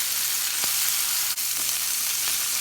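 Beef pieces for stroganoff sear in a hot skillet, a steady broadband sizzle of frying throughout with a few brief clicks and taps, fairly close and with no talking.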